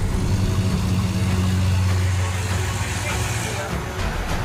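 A tractor engine rumbles steadily while it tows a Mercedes car out of floodwater in Uttarakhand, with a low, continuous drone under spoken narration.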